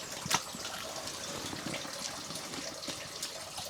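Water from a natural spring at a holy well runs in a steady, faint trickle and gush, with a brief splash near the start and soft ambient noise throughout.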